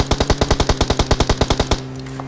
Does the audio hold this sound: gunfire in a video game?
yes